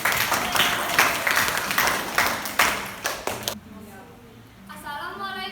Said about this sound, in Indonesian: Beri tepuk tangan untuk kelompoknya Nabila.